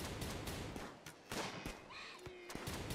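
Rapid scattered gunshots from colonists firing at a herd of ibexes in a colony-building video game, a steady run of sharp cracks and thumps at moderate loudness, with faint game sounds mixed in.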